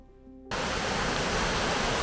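A small winter waterfall spilling off a larger fall, steady broadband rushing water that starts abruptly after a quiet half-second and then stays loud and continuous close by.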